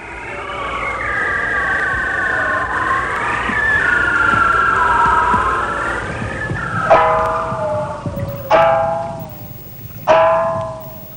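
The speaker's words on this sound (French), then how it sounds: "Voici le chant de l'Erignathus, le phoque barbu." Bearded seal singing under water: a long, wavering descending trill, then three loud downward-sweeping whistles in quick succession, up close over a steady underwater hiss.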